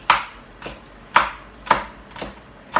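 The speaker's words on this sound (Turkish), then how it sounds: "Burada ince ince kıyarım." Potatoes for a Turkish gözleme being finely chopped with a knife on a board, six crisp, evenly spaced chops at a steady, unhurried pace, close and clear with no talk.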